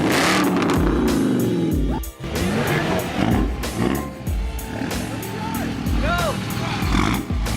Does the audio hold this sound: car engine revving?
yes